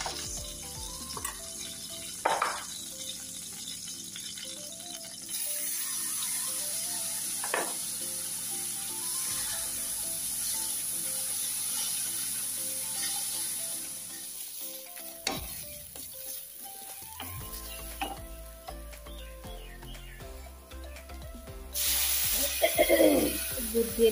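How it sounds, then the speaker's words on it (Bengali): Chopped carrots fry in ghee in a pan for a carrot and sago dessert, with a soft sizzle under intermittent stirring clatters and scrapes, louder bursts toward the end. "একটু ঘি দিয়ে আপনার এই যে গাজর ভেজে নেই"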